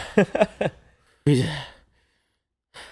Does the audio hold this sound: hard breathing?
yes